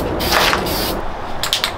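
Short hissing bursts of a silver spray paint can coating car wheels, two close puffs followed by a longer burst, loud and near with no talking.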